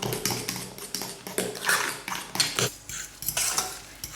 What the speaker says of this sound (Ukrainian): ми вже додали останню порцію згущанки і розмішуємо вмішуємо гарно в крем